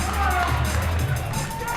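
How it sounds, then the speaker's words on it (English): A crowd at the 2025 Parkour World Championships cheers and roars to push an athlete through a slow finish, a dense close wash of voices rising and falling, with a commentator speaking over it. "Crowd giving him lots of energy to finish this slow one"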